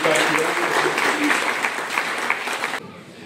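An audience at a children's health community event held by Narayana Hospital in Ahmedabad gives loud, steady applause. The clapping fills most of the stretch and then cuts off near the end.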